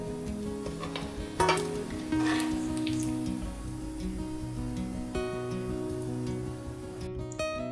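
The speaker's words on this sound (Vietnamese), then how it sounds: "Chiên đến khi cá vàng giòn như này thì mình sẽ vớt ra" Anchovies frying in oil in a pan until golden and crispy, a steady dense sizzle with occasional stirring and utensil scrapes against the pan, close and continuous throughout.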